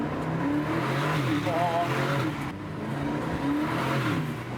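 A 2024 Aston Martin DB12 sports car engine roars steadily with rising and falling revs in a tunnel, loud and close, with a brief gear shift midway.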